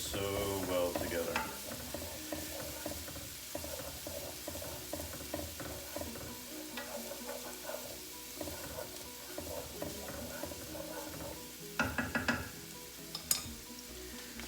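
Garlic and onions frying in a pan over a medium flame, a steady soft sizzle with repeated scraping and stirring of a utensil against the pan, close and with no talking.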